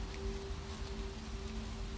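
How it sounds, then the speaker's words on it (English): Rain patters onto leaves, brick walls and the curved metal lids of trash cans, a soft, irregular wash of drops that stays quiet and steady, with a faint low hum beneath and no voices. "Here, the sound of the rain changes slightly."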